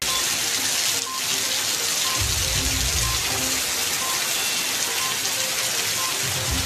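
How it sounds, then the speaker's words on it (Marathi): Heavy monsoon rain in Mumbai, a loud steady hiss of downpour throughout with low rumbling bursts underneath. "मुंबईत गेल्या काही दिवसापासून मुसळधार पाऊस पडत आहे।"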